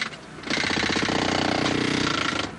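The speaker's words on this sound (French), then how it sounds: "4 heures de marteau-piqueur et de cisaille à béton" Jackhammer pounding through concrete slabs at a rescue site in the rubble, a loud continuous rapid hammering that starts after a brief quieter moment and runs steadily, close and harsh, with no voices.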